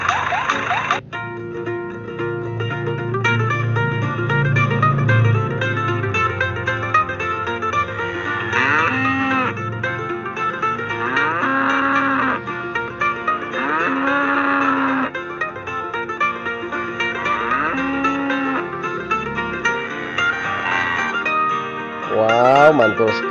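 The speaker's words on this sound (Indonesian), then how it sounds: "Ayo kita pindahkan kerbau ini ke dalam kandang guys." Water buffalo low and moo several times at a livestock farm while being moved into a pen, with drawn-out calls over steady background music.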